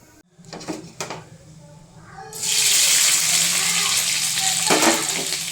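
Paneer cubes hit hot oil in a pan with a sudden loud, steady sizzle that swells after a couple of seconds of quieter clatter and then holds, with a few knocks of stirring.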